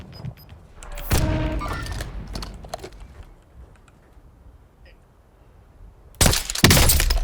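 Sharp bursts of video game gunfire crack out twice, loud and close, with quieter background noise and faint speech between the volleys.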